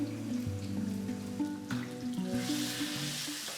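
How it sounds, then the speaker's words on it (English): Eggplants frying in a pan of hot oil, a light close crackling sizzle over a low background hum that carries steady tonal notes, no voices. "eggplants are starting to fry and I stir them and turn the sides that are not fried"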